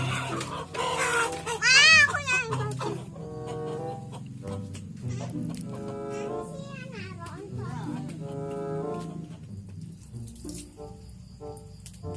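A chicken clucks near a household sink with running water, bursts of fowl calls rising over splashing and tap water, with voices talking briefly.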